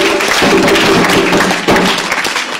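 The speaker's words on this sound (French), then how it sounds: "Il faut l'applaudir." An audience at a political party assembly applauds in a dense burst of clapping that swells and fades over a few seconds.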